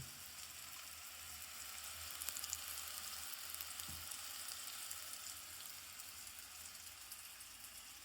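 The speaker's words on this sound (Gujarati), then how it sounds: "જો કે આપણે બટાટાનો વઘાર કરવા મૂકી દીધો છે હવે તેને તેમાં આપણે મરચું હળદરને મીઠુંને એડ કરવાનું રહેશે" Steady, even sizzle of potatoes frying in tempering oil with chili, turmeric and salt, a continuous hiss at moderate level with no talking.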